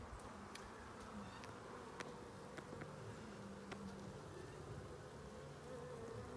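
A hive of honey bees in its second week gives off a faint, constant, even buzzing. Occasional small ticks sound over the hum, and no one speaks.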